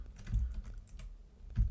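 Quiet clicking of keys on a computer keyboard, a few quick irregular taps in a short burst and another pair near the end, close and soft with no talking.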